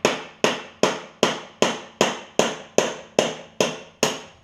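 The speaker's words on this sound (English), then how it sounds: "tap the shaft with the side of a hammer right there" A hammer strikes a lawn tractor's deck spindle shaft eleven times in a steady, even rhythm, each sharp ringing tap decaying quickly before the next, close and loud.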